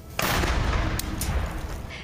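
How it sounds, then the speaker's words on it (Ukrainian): Gunfire in frontline combat near Bakhmut: a loud, dense roar of firing that starts abruptly and continues without a break, with sharp cracks standing out in the steady barrage close to the microphone. "Це він бився під невпинними вогняними чергами."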